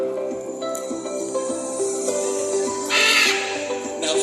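A green-winged macaw squawks during a bird show at an outdoor park in Cebu, with harsh repeated calls over steady crowd chatter and a louder burst of calling near the end.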